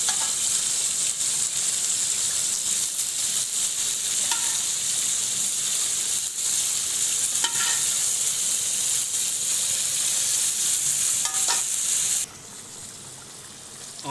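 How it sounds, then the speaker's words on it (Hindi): Yakhni stock goes into a hot mutton karahi over high heat and sets off a loud, steady sizzle and steam hiss with bubbling and occasional stirring clinks, then drops abruptly to a quieter simmer near the end. "ये जो यखनी थी वो हम इसमें डाल देंगे"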